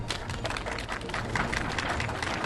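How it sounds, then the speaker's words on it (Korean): An audience claps at an outdoor Korean rally about setting up a National Assembly building in Sejong. The dense applause is steady and fairly loud and lasts the whole stretch, with no speech over it. "큰 박수 부탁드리겠습니다"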